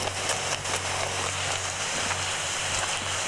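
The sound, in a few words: heavy rain falling at night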